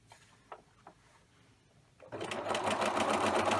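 A sewing machine starts up partway through, stitching a lettuce edge hem on stretched fabric at a wider zigzag width, a loud, close, continuous whir after a few faint clicks of adjustment.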